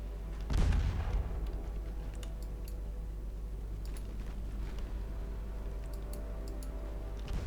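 Torpedo hits in the naval warship game Ultimate Admiral Dreadnoughts land as a heavy low boom near the start, followed by rumbling and scattered faint distant thuds over a constant low roar.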